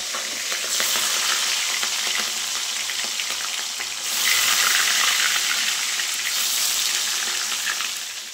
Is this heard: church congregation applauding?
no